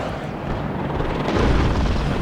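An armored Bradley vehicle blows up in the war game Warno, a heavy rumbling boom that swells midway and rolls on loud and low, with no talking.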